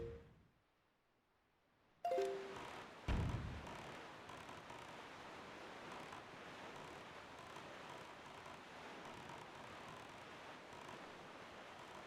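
Sailing a boat across the open sea in The Legend of Zelda: The Wind Waker: after a near-silent start, a steady, moderately loud wash of wind and surf rises and holds without break, with one brief thump along the way.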